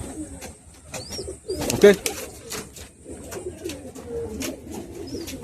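Pigeons in a home loft in Howrah, cooing softly in short bursts close by, with a louder flurry midway, while someone speaks briefly nearby.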